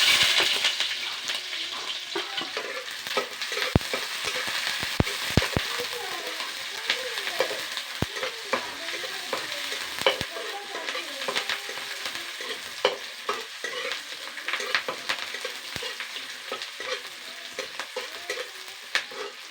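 Onions and green chillies fry in hot oil in a home kitchen, a steady close sizzle broken by frequent sharp clicks of a utensil stirring against the pan.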